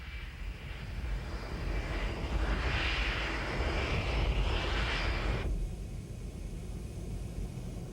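A Victor aerial refuelling tanker flies overhead during the 1990–1991 Persian Gulf War. Its steady jet roar swells across the middle of the stretch, then the upper hiss cuts away sharply, leaving a low rumble.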